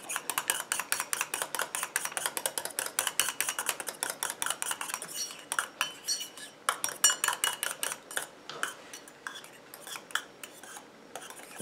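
A utensil stirs a homemade coconut milk shower gel mixture of gum, water and glycerin in a bowl, making rapid, rhythmic clinking scrapes up close that slow into gentler, irregular strokes.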